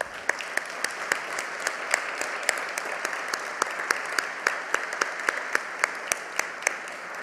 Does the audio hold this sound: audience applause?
yes